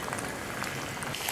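Karachi-style lentil dal simmering in a pot, with a soft, steady bubbling and fizzing that stays quiet and even throughout, with no voices.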